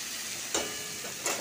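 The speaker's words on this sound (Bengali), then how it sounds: "এবার সমস্ত সবজিগুলো দিয়ে আবার ভালো করে ভেজে নিলাম" Mixed vegetables for a drumstick, pumpkin, potato and pointed gourd curry with moong dal fritters frying in a pan, a steady soft sizzle with two brief brighter crackling bursts, close and alone.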